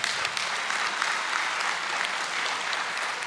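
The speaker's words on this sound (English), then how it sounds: "You can give a round of applause, absolutely." Steady round of applause from the audience at a state party committee meeting, continuous and dense clapping with no speech for the whole stretch.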